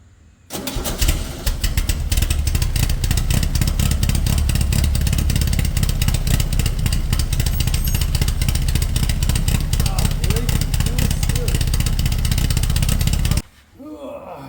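An engine cranks and catches, then runs loud and steady for about twelve seconds before cutting off abruptly, with a faint voice afterward.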